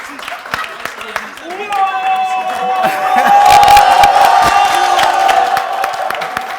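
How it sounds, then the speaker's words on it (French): A TV studio audience at a New Year's special game show claps and cheers, building from scattered clapping into loud sustained applause with whoops and shouts, tonal music running underneath. "Applaudissements pour eux"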